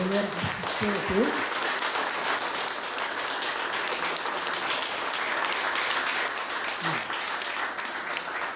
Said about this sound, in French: d'abord on va applaudir le président du GPK qui est venu nous rendre assister